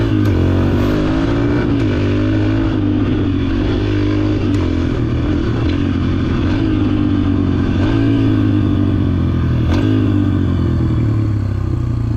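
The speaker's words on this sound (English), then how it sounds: "I'll go up to fifth gear just to show you how fast you can slow down from just using your engine." A dirt bike engine in fifth gear drones loudly and steadily up close, its pitch slowly winding down under engine braking as the bike slows, with occasional clatter.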